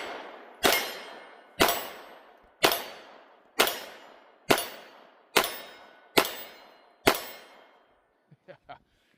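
Sig P365 AXG Legion pistol fired eight times at an even pace, each sharp shot followed by a ringing clang from a distant steel target, then a few faint clicks after the last round.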